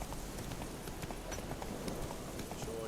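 Horse hooves clip-clop at a gallop in The Witcher 3: Wild Hunt, a steady, fast run of dull thuds under a dense wash of wind and ambient game noise, moderately loud and continuous.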